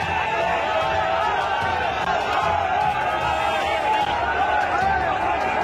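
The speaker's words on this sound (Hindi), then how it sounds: "ये भीड़ है मुजफ्फरनगर की," Crowd at Rakesh Tikait's rally in Muzaffarnagar: a constant, dense roar of many voices that holds at an even loudness throughout.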